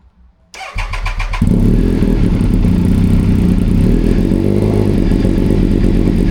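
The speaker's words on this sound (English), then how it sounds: "So, right now, bike idles perfectly fine." A Triumph Daytona 955i superbike cranks briefly with a whirring starter, then catches and settles into a loud, steady, throbbing idle up close, with no talking.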